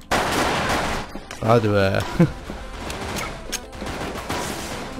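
Shots from a Ragger gun in the shooter game Wolfteam, bursts of gunfire around a player's excited voice and a short tonal game sound in the middle.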